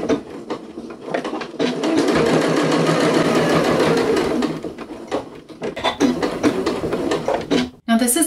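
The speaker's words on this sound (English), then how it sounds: "now we want to stitch down this other side of the nose bridge" A sewing machine stitches along the nose bridge of a fabric 3D face mask, a loud steady mechanical whirr for several seconds, then slowing into short bursts and stops near the end.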